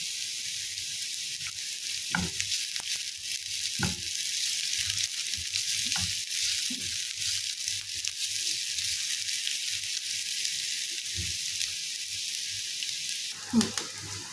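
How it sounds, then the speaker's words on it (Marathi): Ginger and garlic fry in a pan with chili flakes, giving a steady, quiet sizzle throughout. Occasional soft knocks and scrapes of stirring come through, and a few faint words are spoken over it. "जिंजर गार्लिक व्यवस्थित फ्राय करून झालेलं आहे"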